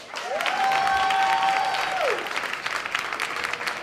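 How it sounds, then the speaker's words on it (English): An audience claps and cheers, a dense wash of applause that holds steady, with a brief whistle-like tone rising over it early on. "give you a hand clap, hand clap"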